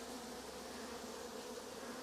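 Dense swarm of honeybees bearding on a beeyard hive stacked with supers, a steady close-up hum with no talk.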